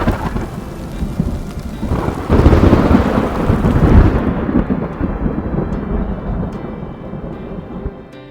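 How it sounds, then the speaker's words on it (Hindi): A deep roll of thunder swells and fades over a dense, steady roar of heavy rain, heard from a train travelling in India. "तेज से बारिश होने लगी, बादलों से चमक और गड़गड़ाहट की आवाज आने लगी"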